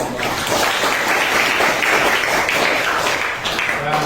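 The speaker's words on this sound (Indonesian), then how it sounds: "Kita berikan tepuk tangan untuk kelompok." A classroom group claps for a student presentation group, a dense and lively round of applause from many hands that holds steady and close throughout.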